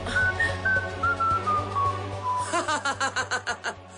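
A tuneful whistle glides downward in long held notes, then breaks into a quick run of short, bouncy whistled notes over a low steady hum.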